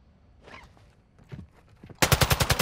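Rapid machine-gun fire from a first-person shooter game bursts in loud near the end, a quick run of evenly spaced shots after quieter shuffling and footsteps.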